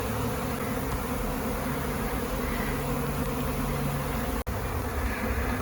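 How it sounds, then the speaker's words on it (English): A massive honey bee swarm fills the air with a dense, steady buzzing drone outdoors near trees, loud and continuous with no voices, broken only by one tiny dropout. "Bees are still pouring out"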